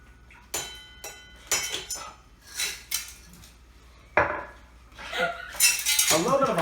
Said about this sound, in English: A little bit of ice, and you take your gin,